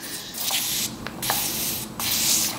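Hair mousse sprayed from a can in a few short, close hissing bursts with brief pauses between them, no talking.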